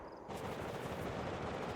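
Sustained automatic gunfire in the survival game DayZ, a dense, continuous burst of rapid shots that starts abruptly after a brief quiet moment and stays loud to the end, with no talking.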